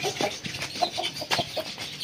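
A rooster at a home mini zoo clucks in quick, short, faint bursts, several choppy calls in a row close by, with scuffling in the background.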